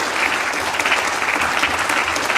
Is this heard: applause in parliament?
yes